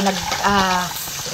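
Drinking glasses are rinsed under running water at a kitchen sink, a steady splashing hiss continuing throughout, with a voice briefly speaking over it in the middle.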